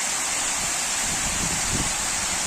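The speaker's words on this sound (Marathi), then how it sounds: "आवाज बघा पाण्याचा" Water rushes and roars in a steady, unbroken flow, close by and loud, like a strong stream pouring over a spillway, from the overflowing Yeliv lake near Satara.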